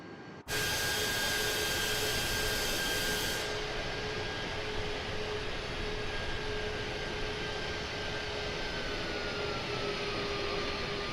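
Steady broad jet roar of a Delta airliner on approach to landing in Microsoft Flight Simulator 2024, loud and continuous after a brief silent start, with a faint high whine that fades after a few seconds.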